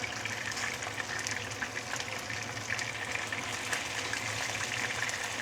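Fish sizzles and spatters steadily in hot oil in a pan, a constant fizzing hiss that stays fairly quiet and alone throughout.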